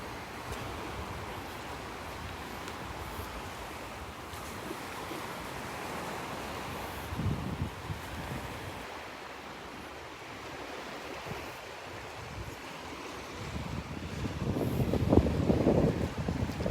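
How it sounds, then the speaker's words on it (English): Steady, constant wind at a Gulf beach at Delnor-Wiggins, blowing as a continuous broadband rush with wind buffeting on the microphone and surf washing in behind it, growing gustier and louder toward the end. "That wind is Wind is pretty steady"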